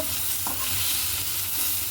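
Soft continuous sizzling with light stirring scrapes, a close, gentle sound of poppy seeds frying in oil in a pan.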